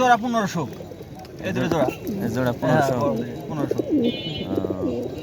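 King breed pigeons coo repeatedly at a pigeon market, their soft rolling calls mixed with close, lively chatter from people nearby.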